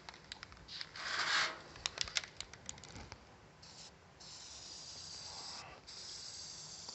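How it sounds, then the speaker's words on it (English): Bursts of hissing rattle-can spray paint applied to the outside of a CNC-cut metal fire pit, several short sprays followed by longer steady passes, with faint clicks and handling noise between them. "All right, so we'll go ahead and spray the outside now."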